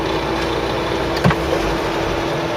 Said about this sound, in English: Sorry about the noise from the fan.